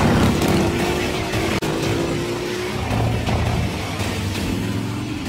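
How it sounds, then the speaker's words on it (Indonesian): Motorcycles racing at high speed in a film scene, a continuous loud engine roar with a sustained whine and a brief dip midway, no talking. "mereka berdua memacu motornya dengan kecepatan tinggi"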